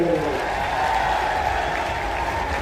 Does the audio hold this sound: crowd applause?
yes